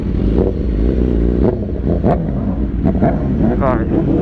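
A superbike revs at a car meet as the rider prepares for a wheelie: a loud, close engine note that surges and falls, with people talking over it.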